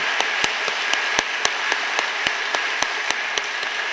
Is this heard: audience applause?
yes